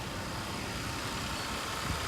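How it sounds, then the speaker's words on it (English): The engine of a 2009 Audi A5 Quattro idles in the engine bay, giving a steady, dense, even mechanical noise with a fine rapid ticking from the fuel injectors, unbroken and fairly close, with no talking. "the only thing I hear right now is just the injectors"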